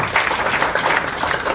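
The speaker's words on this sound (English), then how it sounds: "Give her a round of applause" A crowd at a health clinic event bursts into brief, dense applause, a steady patter of many hands clapping for a little over a second.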